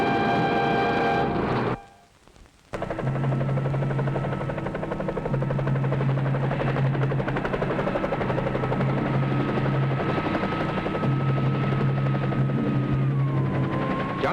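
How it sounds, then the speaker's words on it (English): A loud, steady mechanical drone with a low throbbing pulse, like a helicopter nearby, continuing for several seconds after a brief drop in level. "the authorities sent a helicopter to pick us up"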